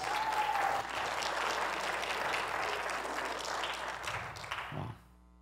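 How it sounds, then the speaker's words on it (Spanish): Church congregation applauds during a Spanish-English sermon, a steady round of clapping with a brief whistle at the start, faint and roomy, ending abruptly. "Dale un aplauso a Jesús."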